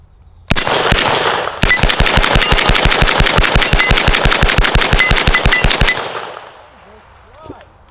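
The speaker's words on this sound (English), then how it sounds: "I gotta shoot the MP5 one more time." An MP5 9mm carbine firing two long, rapid full-auto bursts, a short one and then a sustained stream of evenly spaced shots, loud and close, with echo afterward and brief muffled voices at the end.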